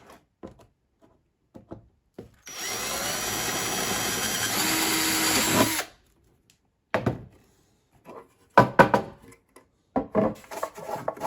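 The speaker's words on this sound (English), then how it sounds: "Now I'm going to drill these holes out a little bigger" A power drill whines steadily for about three seconds as it enlarges holes to 1/4 inch, followed by scattered knocks, scrapes and handling clatter.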